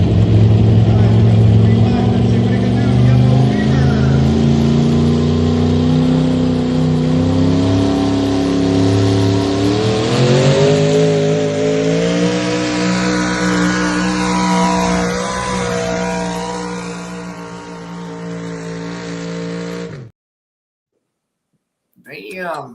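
A loud, close pulling truck with an 850 engine roars at full power, its pitch climbing steadily as it strains down the track for about twenty seconds before cutting off abruptly.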